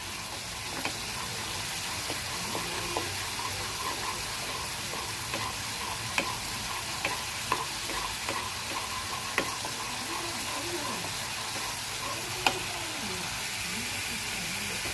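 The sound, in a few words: onions frying in a pan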